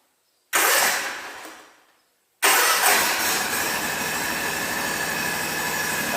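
A Kawasaki engine on an Ariens Ikon X 52 riding mower cranks briefly and dies away, then after a pause fires up and settles into a loud, steady running roar close by.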